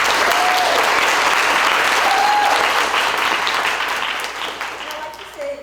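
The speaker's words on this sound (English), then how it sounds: "So please give her a round of applause." Applause from a panel audience welcoming a guest, loud sustained clapping that holds steady and then tapers off toward the end, with a faint voice briefly audible beneath it.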